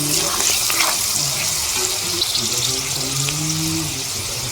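Cumin powder stirred into a hilsa fish and eggplant curry frying in a pan, with steady loud sizzling and a few scraping stirs throughout.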